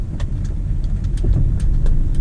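A noisy car drives toward a repair workshop. The interior rumble is steady and low, with scattered rattles and ticks over the engine drone. There is no talk.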